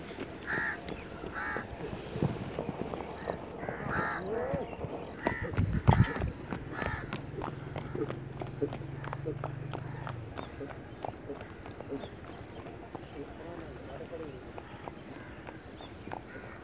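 A desi horse with mushka colouring walks slowly at a sale, its hooves clip-clopping in an irregular stride at moderate distance. Crows caw in the background and someone talks over it.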